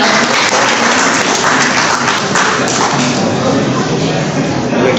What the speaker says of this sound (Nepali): कृपया जोरदार तालीका साथ स्वागत गरौँ